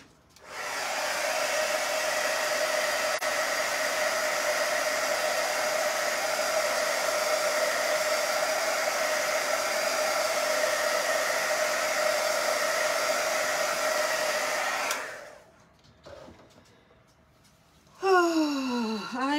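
Handheld hair dryer drying painted craft dots for a tic-tac-toe game, a steady loud whooshing hum running for about fifteen seconds before switching off, followed by quieter room sounds.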